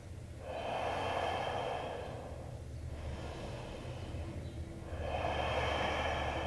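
Deep, slow breathing during a vinyasa yoga flow, two long airy breaths with a short pause between, close to the microphone and fairly loud, with no talking.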